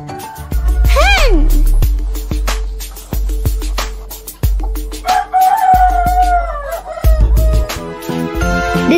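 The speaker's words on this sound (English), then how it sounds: "Hen." A hen or other chicken gives a short, rising-and-falling call near the start, set against a steady, looping children's music beat with other bright sound effects.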